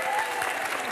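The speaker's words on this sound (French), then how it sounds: "Le public vous applaudit," Audience at a stage hypnosis show giving a brief, dense round of applause, a steady wash of clapping from a crowd with no gaps.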